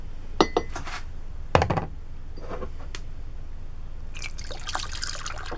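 Homemade glass cleaner trickles into a container in short bursts, with a few light clinks, against a steady background hiss.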